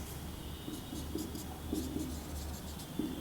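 A teacher writes on the board during a chemistry lesson, giving soft, short scratching strokes in a quick irregular rhythm, faint and close against a quiet room.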